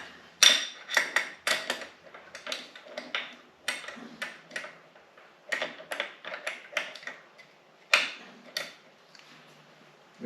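A fitting on a Honda Odyssey FL350 water-cooled engine is worked loose by hand tool during a cylinder head removal, giving a series of close, quiet metallic clicks and ratcheting ticks in irregular bursts.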